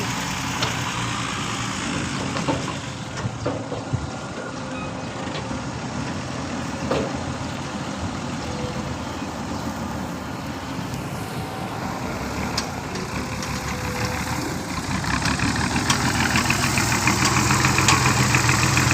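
A dump truck engine idles with a steady, rough diesel rumble and faint knocking, close and continuous, getting slightly louder toward the end.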